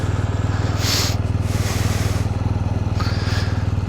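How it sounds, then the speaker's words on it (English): A motorcycle sits idling as it warms up beside Droma Dam in Scotland, its engine putting out a close, steady, fast-pulsing throb, with a few soft rustles and scrapes over it. "Just warming the bike up as well."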